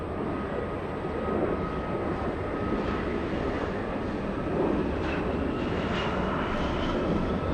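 An Embraer E175 airliner comes in to land at Los Angeles, its engines a continuous whining roar with a faint tonal hum, steady and fairly loud for the whole stretch.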